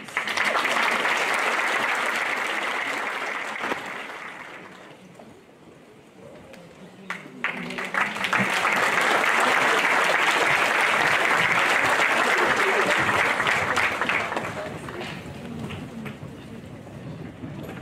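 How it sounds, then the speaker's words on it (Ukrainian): Warm audience ovation at a dance theatre thank-you concert, a dense wash of clapping that dips to scattered claps midway, then swells again into strong sustained applause before easing off. "Тож підтримую їх під ваші овації."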